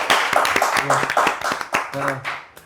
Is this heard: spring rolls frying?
no